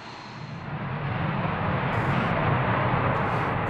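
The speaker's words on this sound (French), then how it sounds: "Ce Mirage 2000 n'a que quelques minutes pour décoller" A Mirage 2000 fighter jet takes off, a broad, loud roar that builds in the first second and then holds steady and powerful.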